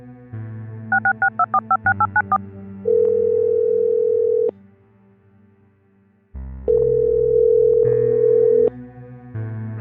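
Electronic telephone tones: a quick run of dialing beeps, then long steady ringback tones with a silent gap between them, loud and close with no voices.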